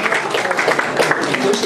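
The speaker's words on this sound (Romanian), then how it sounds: "Haideți, vă rog, să aplaudăm" Audience applause at a seniors' evening event in a hotel in Iași, dense clapping with uneven bursts and crowd murmur mixed in, fairly loud and close.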